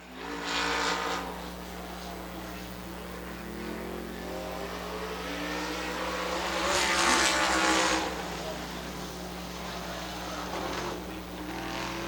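A late model race car runs its qualifying lap at Dixie Speedway, a dirt track, during the Steelhead 525 event. The engine roar swells, fades and swells again as the car circles at moderate distance.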